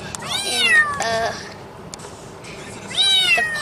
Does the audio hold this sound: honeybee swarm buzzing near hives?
no